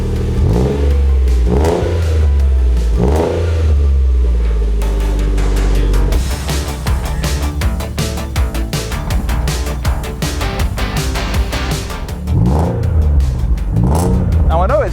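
The engine of an automatic Nissan 300ZX, being restored after nearly being scrapped, revs loudly in repeated blips and then in a sustained, rough burst close by, with a voice talking over parts of it.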